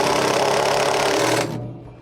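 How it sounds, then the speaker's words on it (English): Tightening a bolt on the motor bracket of a Samsung washer motor assembly: a loud, steady mechanical whir runs close for about a second and a half, then cuts off and fades. "Hold your bracket and tighten it."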